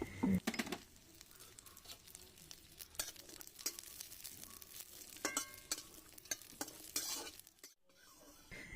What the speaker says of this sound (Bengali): এবার কাজু কিশমিশগুলো ভেজে নেব।